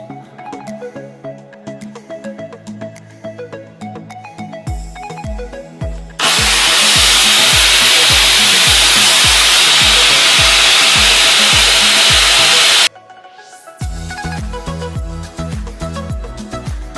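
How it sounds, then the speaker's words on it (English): Angle grinder spinning close up against hair while shaving, a loud continuous whine with rapid rhythmic pulses that runs steadily for several seconds, framed by quieter tonal background sound before and after. "the grinder keeps on blowing the hair away"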